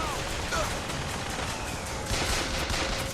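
Gunfire in the video game Bioshock Infinite: a rapid fusillade of shots amid dense, noisy combat sound that runs steadily throughout, with a louder burst near the end.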